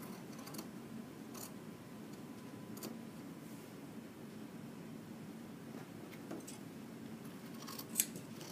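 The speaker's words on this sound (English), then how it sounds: "Cut your dart out." Scissors cut out a fabric dart in quiet, light snips, with a few faint crisp blade closures over low background hiss and no talk.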